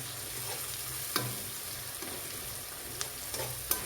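Cumin, onion, green chillies, tomato and potato fry in a pan with a soft, steady sizzle. A few light pops and ticks break through now and then.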